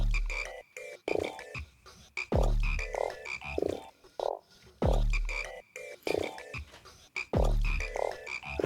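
Repeated croaks from a frog character in the rhythm game Hi-Fi Rush, pulsing on the beat alongside loud, busy game music, with no talk over it.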